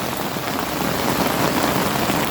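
Rain that has kept falling for four days comes down outside a home, a loud, even hiss of drops striking surfaces nearby, with no voices over it.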